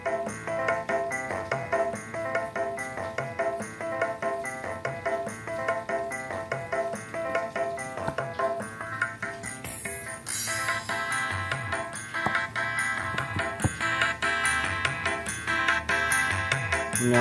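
Music from a phone plays through a homemade mini amplifier built from an old charger, a steady busy melody with a beat that fills the whole stretch and grows fuller in the second half, with no talking.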